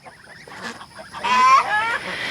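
A few goose honks ring out close by, loudest toward the end, with faint background noise and soft sounds around them.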